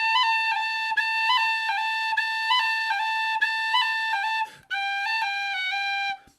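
Tin whistle phrase played with cuts and taps done wrongly, so the grace notes stand out as distinct pitches; a bright, steady melody with audible ornament blips, a short breath break near the end, close and alone.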